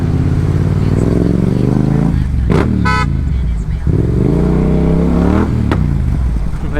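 A vehicle horn gives a short honk in slow, jammed road traffic, rising over a continuous loud engine rumble with another brief horn-like blip near the end.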